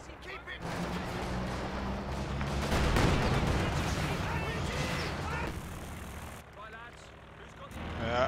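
Gunfire and explosions in Company of Heroes 2 build into a dense, sustained battle din, swelling in the middle and fading toward the end, with voices talking over it.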